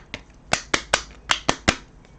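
A deck of oracle cards is shuffled by hand in a quiet room, giving six or seven crisp, close slaps and riffles in an uneven rhythm with nothing else audible.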